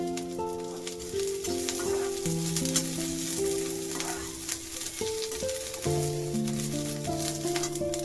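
Onion and garlic fry in a pan for a spicy Maharashtrian masvadi curry, a soft steady sizzle running throughout beneath louder sustained background music.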